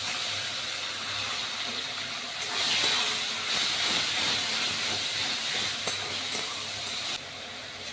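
Onions dropped into hot oil tempered with cardamom, cinnamon and bay leaf, a loud steady hissing sizzle that swells after a few seconds and holds, close by, with no talking.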